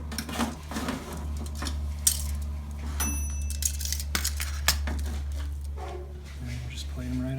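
A pan of turnip hash browns comes out of a kitchen oven with close metallic clinks, scrapes and rattles, scattered through the clip under a talking voice.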